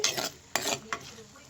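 Potatoes sautéed with green chillies in a pan for a potato egg stir-fry, with a soft sizzle broken by two or three quick scraping stirs of a spoon, close and fairly quiet.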